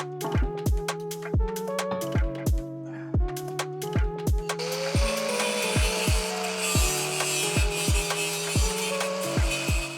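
The flange of a turbo manifold is being cut off on a garage bench, giving steady, rhythmic, ringing metallic strokes close by, with no talking.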